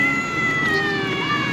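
A stray cat lets out a drawn, wavering meow at close range, a single sustained cry over faint background noise.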